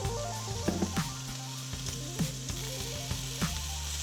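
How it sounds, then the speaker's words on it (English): Steady, crackling sizzle of meat frying in a hot pan, close up, with occasional sharper pops and spatters and no voices. "Listen to that sizzle."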